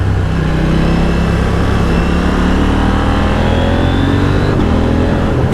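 A KTM Duke 890 GP motorcycle engine revs nearby, a loud continuous throaty roar with rising pitch as it accelerates, heard alone without talk.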